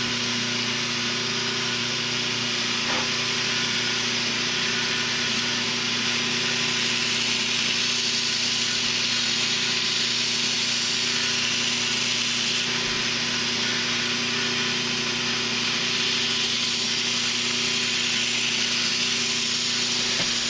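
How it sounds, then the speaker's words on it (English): A power tool runs steadily while sharpening a knife blade after heat treatment, giving a continuous loud grinding hiss with slight variations in pitch throughout and no voices. "this is the final sharpening."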